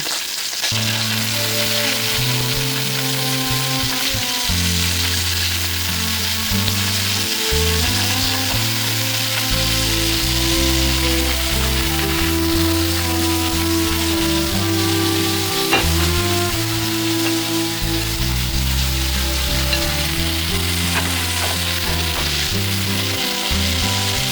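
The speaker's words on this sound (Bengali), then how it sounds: "চিংড়ি মাছগুলোকে একটা একটা করে আমি এর মধ্যে বসিয়ে দেব এবং খুব কম আছে এটাকে ভেজে পোড়া পোড়া করে নেব" Shell-on prawns placed one by one in oil over a very low flame, giving a loud, continuous close-up crackling sizzle with a steady low hum that never lets up.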